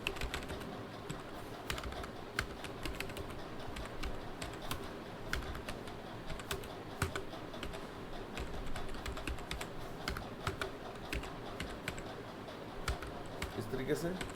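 Bank account details are typed into Tally accounting software on a computer keyboard, a run of close, crisp key clicks in irregular bursts with some soft pauses, faint under the quiet room.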